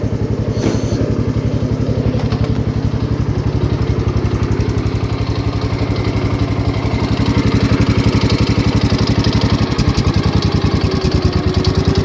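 A 1969 Gravely 432 tractor engine running rich at higher throttle: a loud, close, steady chugging drone with a fast even firing pulse and mechanical clatter, rising slightly partway through, with no speech.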